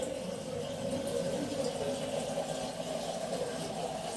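Water poured to fill a pot or kalash, a steady continuous gurgling stream with a hollow filling tone, moderately close and even throughout.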